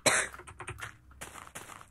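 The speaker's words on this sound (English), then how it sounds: "I'm just coughing every, get like, 5." A person coughs in a short, harsh burst right at the start, followed by a few smaller throat-clearing coughs and breathy sounds close to the microphone.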